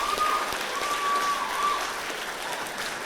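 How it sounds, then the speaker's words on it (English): An audience applauds state officer candidates at a 4-H opening ceremony, a steady wash of clapping at moderate level with a faint tone over it. "Let's give a quick round of applause"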